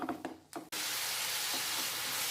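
Jackfruit filling for kozhukattai is stirred with a spoonful of ghee in a hot pan. A few short scrapes and knocks come first, then a loud, steady sizzle takes over and continues to the end.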